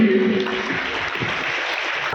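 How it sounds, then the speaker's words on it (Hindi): Applause for Anukriti Tomar at a school welcome event, a crowd clapping steadily and fairly loudly with no break, a brief tone audible at the very start. "एक जोरदार ताली अनुकृति तोमर के लिए"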